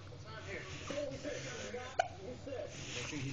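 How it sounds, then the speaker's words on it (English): A baby hiccups once, a single sharp little gulp midway through, close to the microphone while an adult talks softly around it. "Somebody has hiccups."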